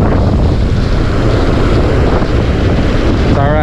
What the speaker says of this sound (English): based on the wind and the current being really crazy